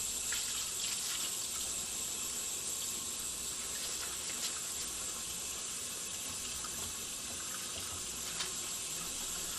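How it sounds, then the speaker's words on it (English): Water runs steadily from a faucet into a sink while hands are wetted and washed, a constant close hiss and splash with no voices. "Wet your hands and apply soap."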